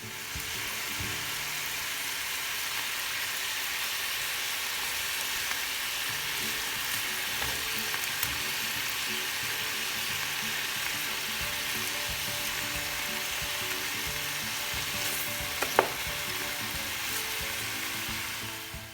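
Oxtail pieces brown in a pot with a steady, dense sizzle and crackle of frying that continues unbroken, with occasional faint clinks.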